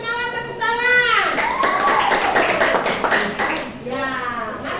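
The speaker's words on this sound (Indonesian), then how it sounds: "Yang lainnya kasih semangat tepuk tangan." A classroom of children clapping to cheer on a group about to present, a loud close patter of hands layered under children's excited voices and chatter throughout.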